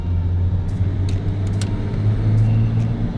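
A modified V8 car engine idles with a deep, steady low rumble that stays loud and close throughout, broken by a few faint clicks and no talking.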